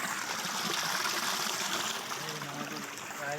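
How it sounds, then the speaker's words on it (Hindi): Spring water from a mountain supply in Azad Kashmir pours fast into a washing area, a close, continuous splashing trickle with bright gurgling, no talk over it. "बहुत स्पीड ही पानी आ रहा।"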